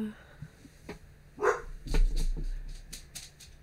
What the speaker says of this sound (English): I hear my dog.